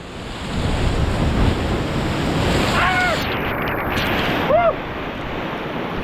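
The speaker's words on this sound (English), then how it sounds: "big waves seem to be every 2 or so minutes during our observations, but arrive in sets of 2 or 3" Big ocean waves surge and wash around a blowhole vent on the coast of Hawaii's Big Island, a constant loud roar of surf with heavy wind buffeting the microphone and a couple of faint chirping calls.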